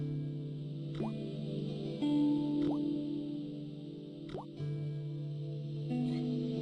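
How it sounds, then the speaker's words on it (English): An old faucet in the Broken Sword adventure game creaks and coughs with hollow, echoing gurgles and rising plops, several watery bursts repeating over a quiet, sustained tonal hum. "The faucet creaked, coughed, and spewed out a stream of rusty-colored water."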